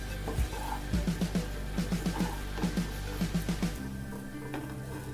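Vegetable fried rice sizzles in a pan while a spoon or spatula scrapes and knocks against the metal in a quick, steady rhythm of repeated strokes. The stirring stops near the end, leaving a softer hiss.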